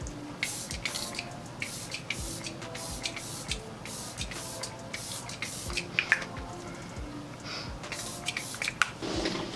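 Glow Recipe Watermelon Glow Ultra Fine Mist setting spray gives a string of short, soft spritzing hisses at close range, spaced irregularly with quiet gaps between pumps.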